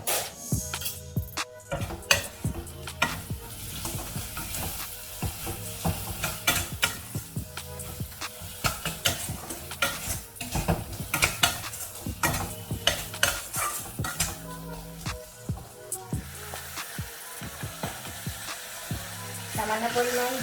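A spice masala of cumin powder, Kashmiri chilli powder and dry chilli powder with a little water sizzles in a pan for kasuri methi chicken, as a spatula scrapes and stirs it in quick, busy, uneven strokes.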